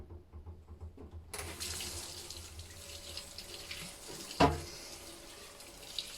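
Tap water runs steadily into a sink to rinse a filter cartridge. It starts abruptly after a short quiet moment, then hisses continuously at close range, with a small clunk partway through.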